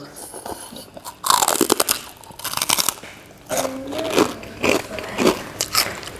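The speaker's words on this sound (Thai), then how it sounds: "อืมกรอบกรอบปลาหมึก" Crunchy squid tentacles from a spicy pounded salad with blue crab are bitten and chewed up close, producing bursts of loud crisp crunching between brief pauses, with faint murmuring sounds in between.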